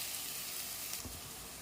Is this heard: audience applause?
no